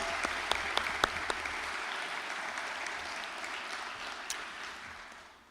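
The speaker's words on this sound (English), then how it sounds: "Give yourselves a round of applause for taking time to be here this evening" Parents and seniors at a high school pinning ceremony clap in an auditorium, a broad, moderately distant applause with a few sharper individual claps standing out early, tapering off near the end.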